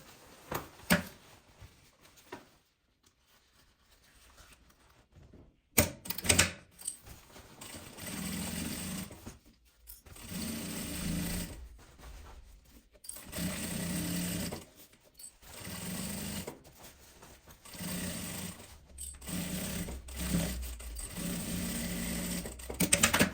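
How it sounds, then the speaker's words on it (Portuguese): A sewing machine runs in repeated bursts while stitching the seams of a simple travel bag, with short pauses between each run of stitching and no talk. "Vamos levar lá na máquina e passar uma costura aqui, nessa parte e nessa parte pra fechar."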